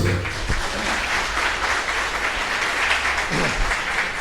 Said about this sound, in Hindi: एक अच्छी ताली फिर से